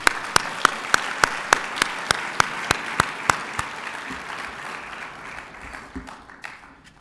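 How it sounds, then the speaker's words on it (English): Audience applause at a food sovereignty summit in Seattle opens with a run of evenly spaced sharp claps, then swells into a steady crowd clapping that fades near the end. "Let's give them a hand, please."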